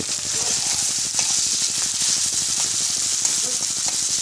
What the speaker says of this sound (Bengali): গরম তেলে প্রথমে পেঁয়াজ, লঙ্কা, আদা, রসুন বাটা দিয়ে ভালো করে